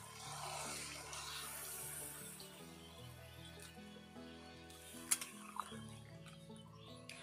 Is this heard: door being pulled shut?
no